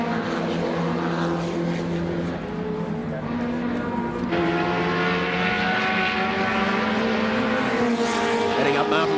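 BMW M3 touring race cars at the 1987 Bathurst 1000 roar past with loud, continuous engine drone and shifting pitch, layered under excited commentary.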